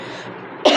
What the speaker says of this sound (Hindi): पता नहीं, मेरे बार बार मुझे खांसी आ रही है।